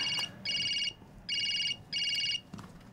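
Telephone ringtone sounding in an indoor setting, an electronic trilling tone in four evenly spaced bursts of about half a second each, clear and fairly soft, with no talk over it.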